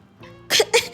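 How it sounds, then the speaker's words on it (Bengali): Two quick, sharp coughs burst out close by near the end, following a faint murmur. "আমার কথা শুনে তার কাশি আসে"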